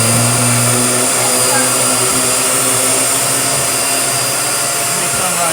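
A Hoover Airlift steerable vacuum cleaner with a detachable lift canister runs loud and close, its motor holding a steady, constant whine and roar with no pauses for the whole stretch.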